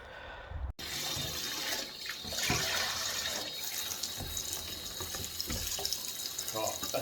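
Water runs steadily from a tap over freshly dug wild horseradish root being washed, a continuous splashing wash after a brief silent start, with a few soft knocks.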